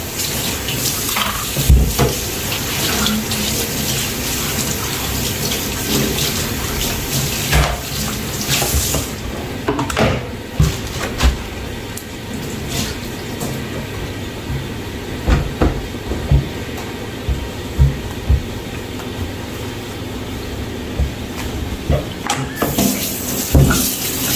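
Tap water runs into a kitchen sink while dishes are washed up, a continuous close splashing rush broken by clinks and knocks of pots and utensils.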